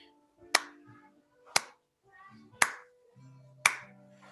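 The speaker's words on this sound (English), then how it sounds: "our first part is clapping" Four single, sharp claps land at an even, steady beat about one second apart, close and crisp against quiet background sound, as the rhythmic opening part of a song.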